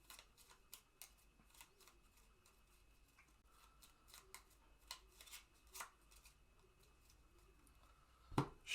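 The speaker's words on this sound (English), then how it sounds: "Shuffle that, and we shuffle his deck too." A deck of playing cards for a board game being shuffled in a quiet room, heard as a series of soft, brisk riffling and tapping bursts with a sharper snap near the end.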